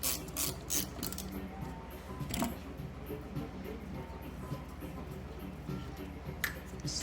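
A wrench works a 9/16 inch nut loose on the pivot points of an 1887 first-year Singer VS-2 sewing machine, giving faint repeated ratcheting clicks and metallic scraping in a quiet room.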